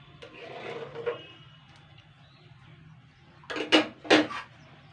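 Fried dhokla pieces go into a cooking pan with green peas, a soft low rustle first, then a quick cluster of louder clattering knocks of utensil and food against the pan.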